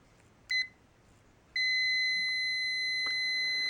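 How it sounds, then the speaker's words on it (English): A multimeter in continuity mode gives a short beep, then a sustained steady high-pitched tone, loud and close, with a brief crackle near the end. "It should go right to beep test."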